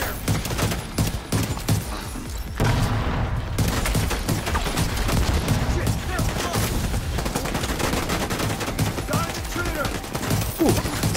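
Rapid bursts of gunfire from a Liberty pistol in a PvE video game, loud and dense throughout, layered with other shooting and game effects.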